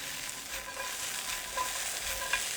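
Food tossed and flipped in a frying pan while cooking a fish dinner, giving a steady sizzle with soft stirring and scraping motion throughout, plus a couple of brief clinks near the end, with no talking.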